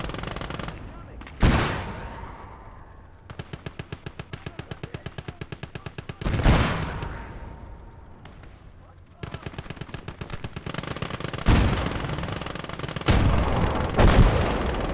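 Tank machine gun fire in the World War II game Gates of Hell, several sustained rapid bursts of loud rattling shots alternating with heavy booming impacts and explosions, with no talk.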